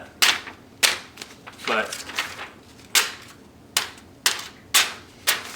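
A knife sharpened on a Smith's/Lansky system slices paper in a series of sharp, snapping cuts, about eight crisp hits spread evenly, close and loud, with a brief spoken word between them.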